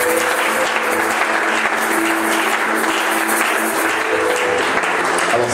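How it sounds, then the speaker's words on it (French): A church congregation applauds and acclaims, giving a sustained wash of clapping with faint tones running beneath it, with no clear speech over it. "Je ne sais pas si c'est comme ça qu'on acclame tout, mais... Alléluia."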